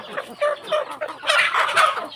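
Burmese fighting chickens cluck repeatedly in a village yard, a run of close, fairly loud clucks and short calls with no talk over them.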